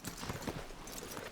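Horse hooves clip-clopping at a walk in Red Dead Redemption 2, a steady close rhythm of soft thuds under continuous background ambience.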